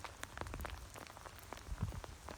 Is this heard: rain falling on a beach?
yes